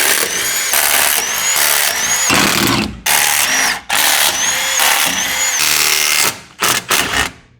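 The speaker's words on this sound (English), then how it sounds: "I'm kind of surprised that little Milwaukee impact can take off all those head bolts." A small Milwaukee impact wrench removes cylinder head bolts from a 12-valve Cummins engine, loud rattling hammering bursts in several runs separated by short silences.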